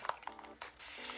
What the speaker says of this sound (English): take my spray bottle of water. I just got this from Amazon. It's just a mister. And I'm going to spray my ends